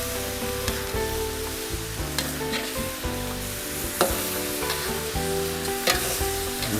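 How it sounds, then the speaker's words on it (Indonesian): Stingray fish stir-fry sizzles steadily in a pan, with clinks and scrapes of a utensil stirring it at a loose, irregular rhythm, close and fairly loud throughout. "Baru ikannya masukkan ke dalam ya. Nah, kita aduk sampai tercampur rata."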